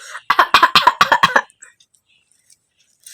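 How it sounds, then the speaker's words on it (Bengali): A man gives a quick series of about eight short, close coughs in a burst, then falls silent. "বাবা বাবা কাশি দাও তো"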